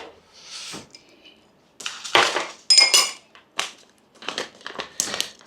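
A spoon clinks and scrapes against a glass while stirring chia seeds, a series of close, bright taps and rattles in short bursts separated by brief pauses.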